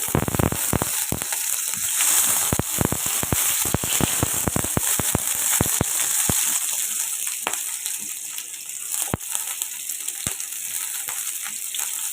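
Onion for a fish sauce fries in a pan, giving a steady sizzling bed full of sharp, irregular crackles and pops heard up close with no talking.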